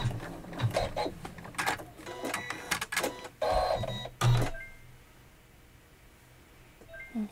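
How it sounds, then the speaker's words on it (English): An embroidery machine stitching a placement and trim line for a pieced pillow block, quick mechanical bursts of rapid needle stitching broken by short pauses, close by, then a quieter stretch as it stops. "now I'm going to stitch number 8 of the embroidery file"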